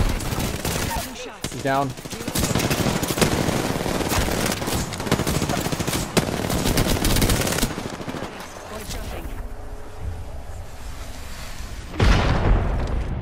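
Rapid automatic gunfire and explosions in the video game Apex Legends, with loud sustained bursts of shooting, booming impacts and a short lull, while a player talks over the action.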